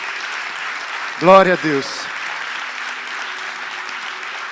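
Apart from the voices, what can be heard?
applause for Jesus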